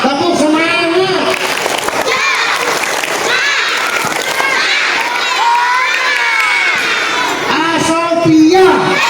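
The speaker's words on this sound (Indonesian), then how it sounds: "Ya, tepuk semangat." Children at an Isra Mi'raj commemoration do a rhythmic clapping chant, shouting and cheering together in loud, continuous bursts of voices and claps that swell again near the end.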